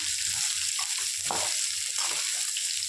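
Beetroot sautéing in a pan for chutney, giving a soft, continuous hiss with light scraping and stirring sounds underneath.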